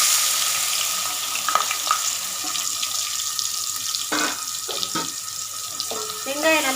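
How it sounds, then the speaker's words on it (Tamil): A steady hiss of finely chopped onions sizzling in hot oil, with occasional clinks and scrapes of stirring nearby. "ரெண்டு பெரிய சைஸ் வெங்காயம் இந்த மாதிரி பொடியாக நறுக்கி வச்சுருக்கேன், அதை போட்டுக்கலாம்."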